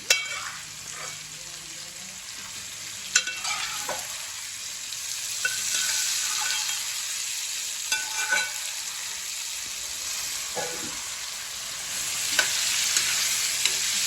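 Half a kilogram of chicken pieces fries in a pan with a steady, moderately loud sizzling hiss, broken by a few sharp clicks and scrapes of stirring; no one speaks.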